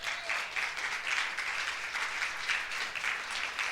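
Sustained applause from a church congregation praising the Lord, steady dense clapping at moderate level filling the whole stretch without a break.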